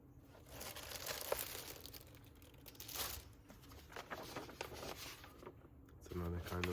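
Sheets of transparent paper and print offcuts rustle and crinkle as they are handled for collaging and layering, with continuous crisp handling noise close up and a voice talking over it.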